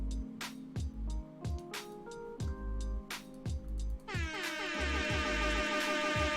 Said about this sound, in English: Instant rap air horn.